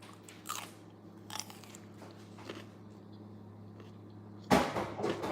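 Sugar cane being bitten and chewed up close, a few scattered crunchy bites with one loud crackling bite near the end over a quiet room hum.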